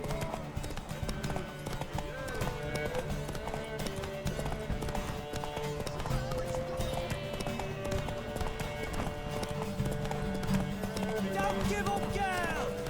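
Horse hooves galloping in The Witcher 3 video game, a rapid continuous clip-clop under music and shouted voices throughout.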